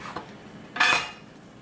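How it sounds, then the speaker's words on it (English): A spatula cuts through vegan pizza dough on a floured surface, a single short scraping stroke against the counter after a faint earlier tap, close and quiet with no talk. "And my spatula, just cut it down the middle."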